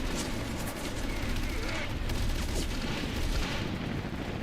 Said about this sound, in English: He actually fired a shot.